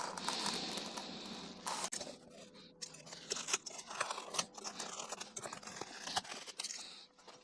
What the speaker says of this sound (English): I'm just wondering now if this blade is actually going to be big enough to cut all the way through to the cutting mat at the bottom.